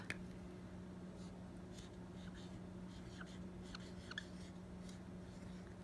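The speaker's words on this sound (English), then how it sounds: "So I would write Trump." Handwriting a word, the pen or pencil scratching softly in short scattered strokes, faint and close over a steady low electrical hum, no voices.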